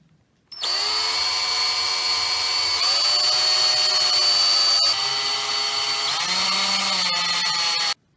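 A power drill whirs steadily for about seven seconds, close up, driving a screw into wood to hold an axe blade in place, its pitch shifting slightly as the screw bites, then stops abruptly.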